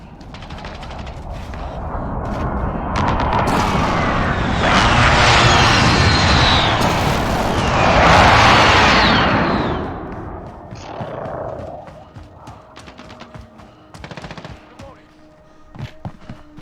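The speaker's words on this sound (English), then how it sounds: "Enemy precision airstrike." A Call of Duty Modern Warfare enemy precision airstrike roars overhead with jet noise and heavy explosions swelling loud over several seconds, scattered gunfire crackling around it, then tapering into sporadic shots.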